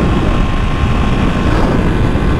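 Ducati Panigale V2 motorcycle engine pulling at about 6,000 rpm in 4th gear, a steady, loud, continuous drone mixed with rushing wind and no break in tone.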